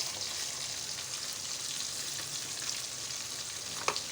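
Onion tossed into hot oil for a stew sauce to go with rice and yam, giving a steady, fairly soft sizzle and crackle that runs unbroken and stays in the background, with one sharper pop near the end.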